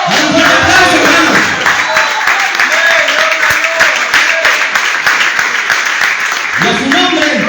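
A church congregation breaks into loud, sustained applause with cheering and shouts mixed in, the clapping dense and energetic through the middle while a preacher's voice rises over it at the start and end.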